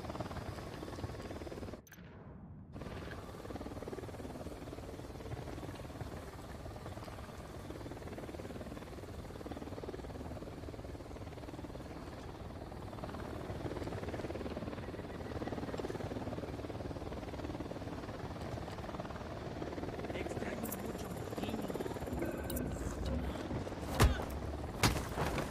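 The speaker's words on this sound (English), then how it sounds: "Unidad chopper. Stay low." Unidad military helicopter passing overhead in the video game Ghost Recon Wildlands, a steady low rotor rumble lasting throughout after a brief dropout near the start, with faint distant gunfire-like pops near the end.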